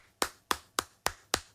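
A man clapping his hands alone, five sharp, evenly spaced claps close up in a quiet room.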